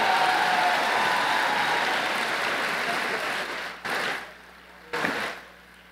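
Audience at a Mexican school's 2023 course inauguration ceremony applauds teachers being honoured, a dense, steady wash of clapping that thins and fades out over the last two seconds, with a couple of brief bumps near the end.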